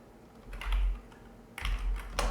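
A computer keyboard is typed on in a few quick clusters of close, crisp key clicks with short gaps between, alone and fairly soft.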